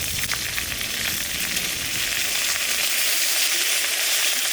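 Curry leaves and dried red chillies sizzling in hot oil as a tempering for coconut chutney, a loud, continuous crackling fry close by with no voices.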